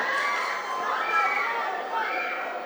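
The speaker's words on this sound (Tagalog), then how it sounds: "Sigawan po mga fans dito sa loob ng Bernardo Park covered court." Boxing fans shout and cheer inside the Bernardo Park covered court during a fight, a dense continuous roar of many voices with a swell in the middle.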